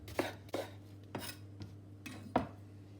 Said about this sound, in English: Slice your shallot.